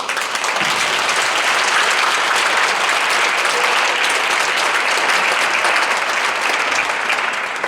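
At a women's economic forum inaugural session, an audience claps steadily and loudly to welcome a speaker on stage, a thick, even roar of applause lasting the whole stretch without talk.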